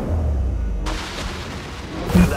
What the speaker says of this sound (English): Activating artillery.